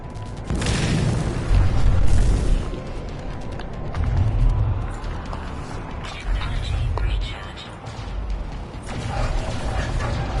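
Base turrets fire in the space survival game No Man's Sky, sending repeated deep booms and rumbling blasts over a constant mechanical whir and clank.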